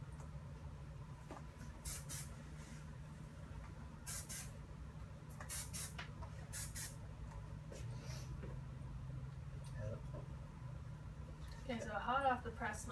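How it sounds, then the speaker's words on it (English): Hairspray misted onto a client's hair during a haircut in a salon, with several short aerosol bursts hissing over steady background hum and talk, ending in a louder burst. "So I'm just gonna give her a little bit of spray"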